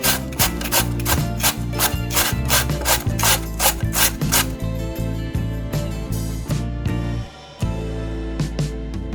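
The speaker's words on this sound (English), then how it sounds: "Now we can grate potato." Potato rubbed briskly against a kitchen grater for an easy breakfast of potatoes and eggs, a steady run of rhythmic rasping strokes, close and loud, with a brief pause near the end.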